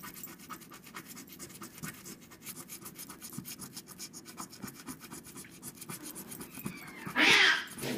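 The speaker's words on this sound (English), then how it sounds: "Oh, my cats are fighting." Two house cats fighting indoors: a brief, loud yowling screech bursts out near the end over the steady, rhythmic scraping of a lottery scratch-off ticket being rubbed.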